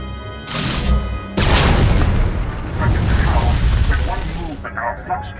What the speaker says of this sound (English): our flux cannons fire, and an Imperial capital ship is disintegrated